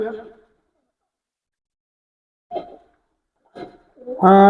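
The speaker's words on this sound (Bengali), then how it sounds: "দেখেন এক পেয়ার কবুতর আছে কেটিএম এর এটা হচ্ছে রানিং পেয়ার কবুতর" A pair of KTM running pigeons gives a few short, soft coos in brief bursts separated by silence, ending in a fuller, louder call.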